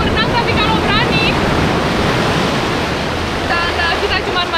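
Large, powerful ocean waves breaking on the beach at Pelabuhan Ratu, a broad loud roar of surf with strong current, wind buffeting the microphone, and a few whistle-like tones over the steady wash.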